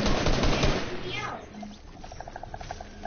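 Video game gunfire directed at the player, a quick run of loud rattling shots at the start that fades into scattered lighter pops and clicks, with talking in the background.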